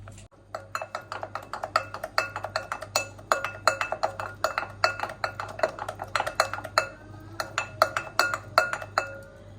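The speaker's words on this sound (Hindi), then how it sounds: "इसको बर्फ को घुमाते जाएंगे, ये खुद ही मक्खन की शेप में आना शुरू हो जाएगा" Ice cubes clink and rattle against a bowl as they are stirred through melted fat for homemade butter, a steady run of close, bright clinks with no voices.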